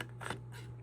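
Scissors snip through paper in two quick, quiet cuts, close by, with faint hum behind and no talk.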